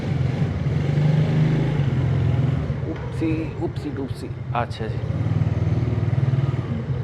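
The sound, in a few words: Zonsen Super Star Cub 110cc motorcycle engine running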